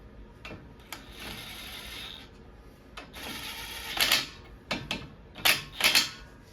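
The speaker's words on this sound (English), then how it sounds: "I'm gonna get these on lightly and then I'm going to torque them" Bolts on the caliper bracket of a 2017 Honda Civic are tightened with a torque wrench during a front brake job, producing a series of sharp metallic clicks and ratcheting bursts that grow louder toward the end.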